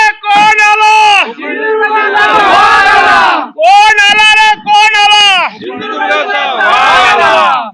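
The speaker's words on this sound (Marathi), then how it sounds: "आपण पाहत आहात कशा प्रकारे जल्लोष सुरू आहे" Loud, close crowd cheering and whooping in repeated surges at a Lok Sabha election victory celebration, several voices shouting together in bursts with brief dips between them.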